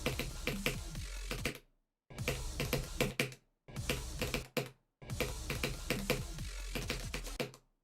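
Rapid keyboard clicking during a hard platformer game, dense bursts of fast keystrokes in several long runs broken by short pauses, close and loud with no talking.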